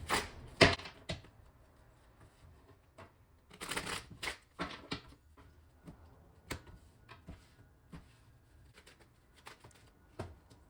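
Faint riffling and soft flicks of oracle cards being shuffled, irregular papery taps and brushes close by in a quiet room.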